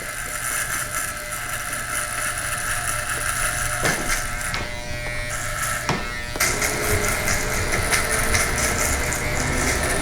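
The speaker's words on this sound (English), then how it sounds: "to shave it down a little bit more to get a closer shave" An electric shaver buzzes steadily and loudly close by as it works over the sides of a head during a curly high-fade haircut. The tone shifts briefly in the middle as the blade moves, with no speech.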